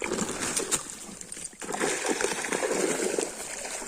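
Caught crucian carp are released back into the water outdoors, giving light splashes and sloshing at close range over a steady background of water and ambient noise.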